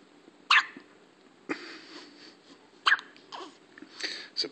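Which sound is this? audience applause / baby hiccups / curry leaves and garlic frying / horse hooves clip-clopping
baby hiccups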